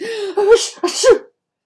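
A voice acts out two sneezes in a row, each a drawn-out breathy buildup ending in a sharp burst.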